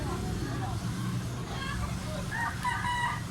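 A stag rooster crows at a busy market in Carbon, Cebu, its call rising above a steady murmur of crowd chatter and nearby voices.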